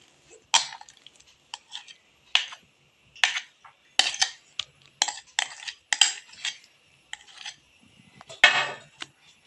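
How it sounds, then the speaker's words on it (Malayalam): A spoon stirs a thick batter of ground jackfruit and rice flour in a pot, giving repeated scraping clinks in an uneven rhythm, close and fairly soft, with no talking. "നല്ലപോലെ ഇളക്കണം"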